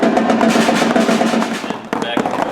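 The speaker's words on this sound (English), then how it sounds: "cut the speed of your strokes in half and do bounces instead" A drum open roll played with bounce strokes buzzes as a dense, continuous, close rattle for a couple of seconds, with a brief dip before carrying on.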